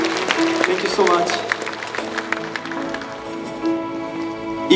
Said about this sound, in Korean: 우리 목사님께 감사 한번 박수합시다